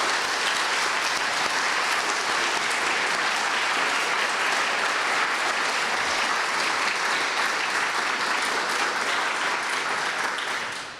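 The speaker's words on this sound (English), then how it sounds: "just a round of applause for everybody who shared" Sustained audience applause at an NPR Illinois storytelling evening, a dense, even roar of many hands clapping for about eleven seconds, loud and continuous before tapering at the very end.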